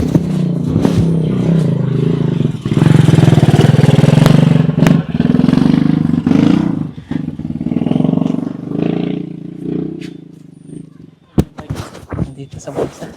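A motorcycle roars past nearby, its engine swelling loud for several seconds and then fading away, followed by clattering and scattered sharp knocks while people talk.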